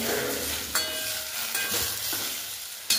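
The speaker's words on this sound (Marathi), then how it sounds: "पालक व्यवस्थित बटर मध्ये परतून घ्यायची एकदम व्यवस्थित" Spinach leaves sautéing in butter for a quick spinach soup, a soft continuous sizzle with a few sharp spatula taps and scrapes, close and even, no talking.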